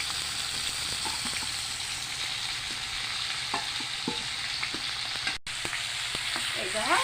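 Banana flower and spices frying in hot oil for mochar ghonto, with a steady close sizzle under repeated stirring scrapes and taps and a brief dropout near the end, no voices.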